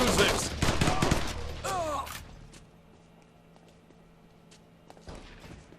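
Sniper rifle fire in the shooter game Rekoil: a loud flurry of sharp shots in the first two seconds, then fading into quiet background sounds with a faint thud near the end.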